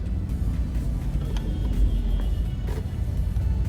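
A congested highway with large trucks fills the air with a constant low rumble of idling and crawling engines, and the dense traffic drone never lets up.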